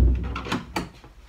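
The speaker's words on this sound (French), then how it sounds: "je ferme la porte." A door being shut indoors in the morning, a short muffled thud with a brief rattle, fairly close, followed by quiet room tone.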